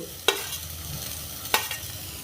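Ginger sautéing in a pan for a vegetable ragi soup before cabbage goes in, a constant close sizzle punctuated by two sharp spatula strikes and scrapes, no voices.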